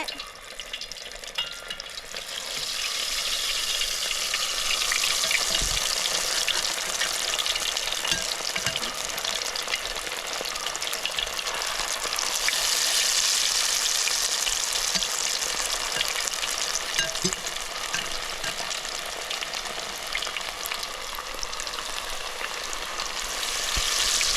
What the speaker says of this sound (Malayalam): വെളിച്ചെണ്ണ നന്നായിട്ട് ചൂടായിട്ട് ഇനി നമുക്ക് മാഗ്നേറ്റ് ചെയ്ത് വെച്ച നമ്മളെ ചിക്കനെ അതിലേക്ക് ഇട്ട് കൊടുക്കേ